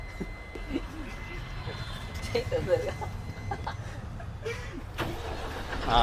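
A night sleeper bus on the Hyderabad to Shirdi route is started, its engine cranking and settling into a low, steady rumble that swells near the end. Voices talk over the engine noise.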